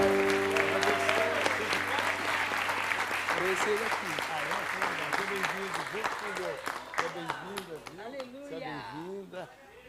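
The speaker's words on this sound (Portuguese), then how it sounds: "Pode aplaudir ao Senhor" Applause from a church congregation at a celebration service, steady dense clapping throughout, with someone speaking over it and music-like tones early on.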